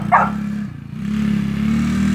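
A 110 Spider-Man Coolster ATV engine runs close by, a steady buzzing drone that dips briefly, then picks back up, with a short bark-like burst at the start.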